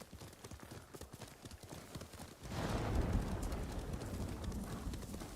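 Horse hooves in the video game Ghost of Tsushima, a steady clip-clop of riding at moderate volume that gives way to a louder rushing gallop with some bird sounds.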